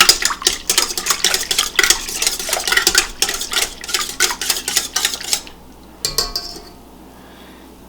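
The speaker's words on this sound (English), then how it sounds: "And I'm going to whisk that in really well." An egg is whisked into a yeasty dough mixture for a Hefezopf, with quick rhythmic clinking strokes against a bowl for about five seconds before the beating stops and near silence follows.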